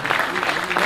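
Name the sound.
audience applause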